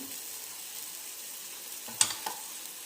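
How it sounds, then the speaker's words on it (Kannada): Food frying in a pan after salt is added, a faint steady sizzle with a couple of brief clatters from stirring near the end. "ಸ್ವಲ್ಪ ಸಾಲ್ಟ್ ಹಾಕಿ ಫ್ರೈ ಮಾಡ್ತಾಯಿದ್ದೀನಿ"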